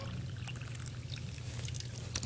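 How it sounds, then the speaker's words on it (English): Two cups of water poured over cranberry pudding in a TV studio kitchen, a soft continuous splashing trickle at low volume that rises slightly at the end. "so we're going to put 2 cups of water on this."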